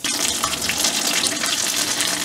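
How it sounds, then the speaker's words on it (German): Battered fish frying in hot oil gives a loud, steady, hissing sizzle that fills the whole clip without a break, and no voices are heard. "dann verschwindet der Teig mit dem Fisch im Öl"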